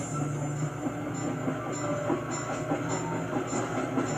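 A moving train rumbles along in the video game Sly 2, a steady mechanical roar with rhythmic clickety-clack of wheels over rails and a faint hiss, constant and fairly close throughout.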